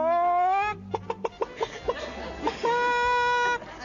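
A voice imitates a chicken, with a comic chef squawking and clucking: drawn-out warbling tones broken by a quick run of sharp clucks, close and loud.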